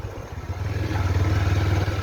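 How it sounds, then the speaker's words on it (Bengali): A motorbike engine on a forest road rises from quiet into a close, loud, pulsing mid-pitched drone, clattering slightly as it passes, with no talking. "এই এলাকায় শুধু বাইক চলাচল করে"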